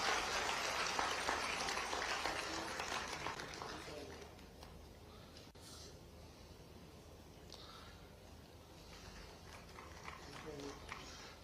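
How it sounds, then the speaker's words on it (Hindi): Applause at an official road-safety MOU signing event for a programme across 55 districts, a moderate burst of clapping that fades over several seconds into room noise. "जोरदार तालियों के साथ अभिनंदन।"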